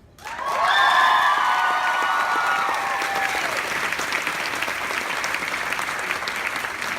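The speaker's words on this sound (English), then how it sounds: "I want to hear one more time a massive round of applause for the guests of Sherlocked USA!" A convention crowd at Sherlocked USA 2017 gives its guests a massive round of applause, starting abruptly at full strength with some cheering early on, then continuing as steady, sustained clapping.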